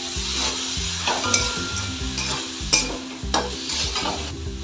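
Banana stem and shrimp sautéing in a pan as water is sprinkled in: a steady close sizzle broken by scraping stir strokes, over a low repeating musical backing.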